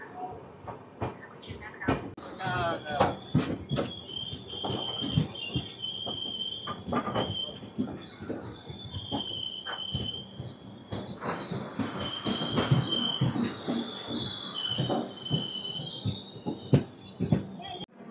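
Rayalaseema Superfast Express moving off after a short halt at Vikarabad Junction, with steady rolling rumble, clanks and screeching wheel squeals through the run, sharp knocks scattered throughout, and occasional voices in the background.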